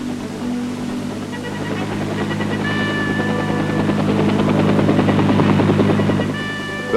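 US Army medical evacuation helicopter in the Pacific, a steady, broad rotor-and-turbine drone that slowly swells louder over several seconds, with no voices.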